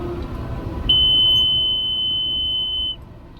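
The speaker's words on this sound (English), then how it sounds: "There's our near full audible alarm." A round baler's near-full audible alarm on a farm, one steady high electronic tone lasting about two seconds over a low tractor rumble, then cutting off.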